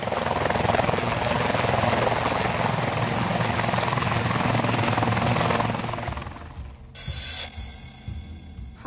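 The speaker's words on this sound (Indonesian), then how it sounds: "Feli naik helikopter." A helicopter arrives with a loud, close, steady whirring thump of rotor and engine that holds for several seconds, then fades as it settles, followed by a short burst of hiss and mechanical rattling.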